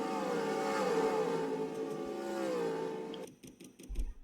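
A race car engine in an American PROCAR Series racing video game at Canadian Tire Motorsport Park drones steadily at high revs, then cuts away into scattered clicks and thumps.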